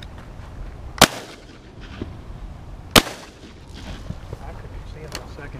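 Shotgun blasts at a dove hunt outdoors on the second day of dove season, two sharp reports about two seconds apart with fainter distant shots between, over quiet outdoor background and brief murmured talk.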